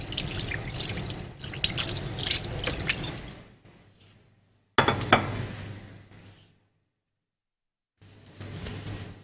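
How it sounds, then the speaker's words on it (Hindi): A kitchen tap runs for handwashing, splashing loudly into the sink, stopping, gushing again, then stopping into silence before the water starts once more. "अच्छा, थोड़े से मैं अपने हाथ वॉश कर लूँ"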